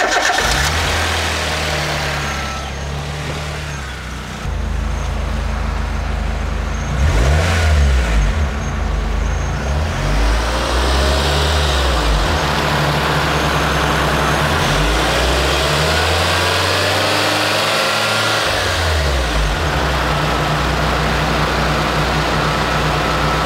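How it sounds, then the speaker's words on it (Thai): A Nissan Sunny car engine runs steadily and close by, a low rumble that swells briefly as it is revved, then settles back into a smooth idle. "มาฟังเสียงเครื่องยนต์กัน"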